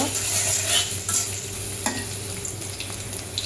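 Shrimp fry in hot oil, giving a close, steady sizzle broken by scraping stirring strokes, with no voices.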